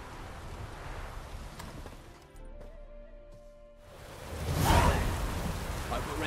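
Steady rainfall with thunder in The Witcher 3 video game: a constant wash of rain hiss, a brief quieter dip, then a swelling rumble of thunder rising loud near the end.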